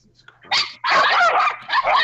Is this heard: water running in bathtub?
no